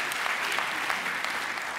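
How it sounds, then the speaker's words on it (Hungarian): An audience at a comedy stage show claps in a steady, dense patter of many hands, moderately loud and even throughout, with no talking. "nagy tapsot kérnék az úrnak a lazaságáért"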